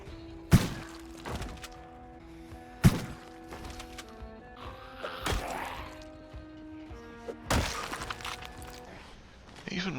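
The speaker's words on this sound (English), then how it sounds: "I figured it was time to deploy the shotgun and have a crack at them." Shotgun blasts fired at zombies in the Project Zomboid video game, with several sharp, loud bangs spaced a few seconds apart over a quieter game background of thuds and clatter.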